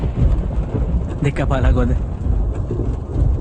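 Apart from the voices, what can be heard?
thunderstorm with rain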